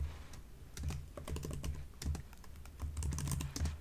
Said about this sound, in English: My job is just to listen and then type.